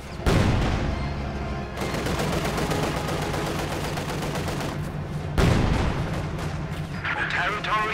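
Sustained battlefield gunfire and artillery in the video game Company of Heroes 2, dense overlapping bursts and booms running the whole time with heavier blasts near the start and middle, loud and continuous.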